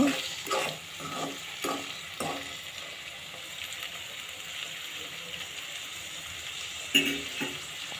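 Maggi masala powder being mixed into Yippee noodles frying in oil, with several scraping stir strokes against the pan early on over a steady low sizzle, then two more clanks near the end.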